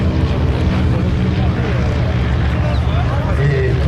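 A propeller airplane with a long cowling and a big front-mounted engine drones loudly and steadily at an air show meeting, its broad engine roar constant throughout.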